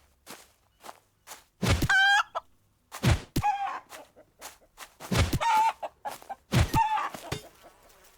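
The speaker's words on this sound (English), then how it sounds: "These are some powerful chickens." Chickens in the video game Lost Isle cluck and squawk in loud, short, scattered bursts, with soft taps and steps between the calls and no talking.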